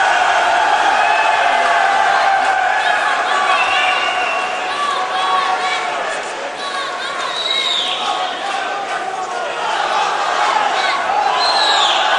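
A dense arena crowd roars and cheers between rounds of an MMA fight, a loud continuous wash of voices and whistles, with a commentator talking over it.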